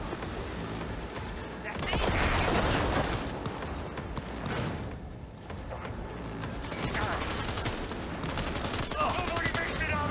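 Rapid bursts of gunfire from the video game Cyberpunk 2077, loud and dense bouts of shooting with mechanical clatter between them, running through most of the stretch with voices in the background.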